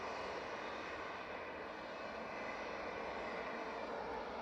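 A JetBlue jet airliner at Montego Bay makes a steady, loud, broadband engine roar at takeoff. The sound holds constant throughout with no talk.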